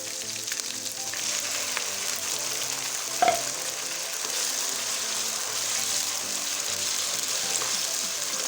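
Chicken with garlic paste fries in a pan, giving a steady broadband sizzle that holds at an even level throughout, with one brief clink from a utensil partway through and no voices.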